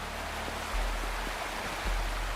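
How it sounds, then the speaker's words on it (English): Steady rushing water from a waterfall in the video game Wuthering Waves, a continuous broadband wash with a low rumble that swells slightly partway through, heard alone without voices. "There's something behind the waterfall."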